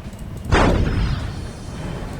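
A single heavy artillery blast booms in the Warhammer 40K video game, a sudden deep thump with a rumbling tail that fades over a couple of seconds against background battle noise.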